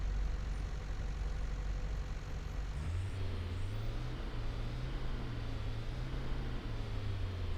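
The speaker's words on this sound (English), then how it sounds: "Yeah, it's very much van engine like." A Mercedes-Benz W906 minibus van idling in the Fernbus Coach Simulator game, a steady low diesel drone that shifts pitch slightly partway through, then holds an even hum alone.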